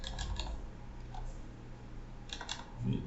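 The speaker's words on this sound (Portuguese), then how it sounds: "Mas eu posso digitar aqui novamente e dou um Enter que ele vai aceitar." Quick bursts of keystrokes on a computer keyboard while entering commands and user details in a Linux terminal, close and moderately loud, with a pause between clusters of clicks.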